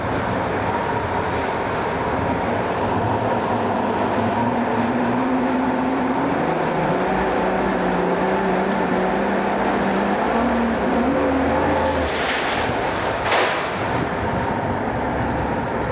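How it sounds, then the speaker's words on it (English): A 2006 Yamaha 300hp HPDI two-stroke outboard motor with a 20-inch shaft runs steadily in a test tank, giving a loud continuous drone whose pitch shifts slightly, with brief clunks near the end. "I cannot open this motor up in this tank."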